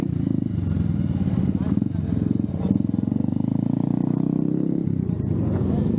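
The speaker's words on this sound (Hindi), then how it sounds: "बाइक्स तो परफॉर्म करेंगे फ्री स्टाइल, जैसे कि आप देख रहे हो" Motorcycles doing freestyle stunts at a drag racing event in Aamby Valley, a loud steady engine drone with revving and rising pitch, close by and continuous, with crowd noise in the background.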